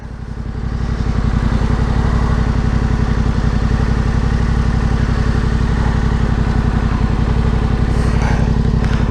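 A Yamaha Tenere 700 motorcycle idles close by, a steady, even thrum of rapid engine pulses after a short rise at the start, loud and alone.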